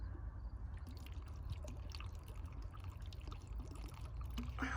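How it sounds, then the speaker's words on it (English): Water poured from a cup and dripping onto the floor inside a truck used as living space, faint trickling and scattered small drips over a low steady rumble. "I could pour the water in there, and it could just drip on the bottom of the truck"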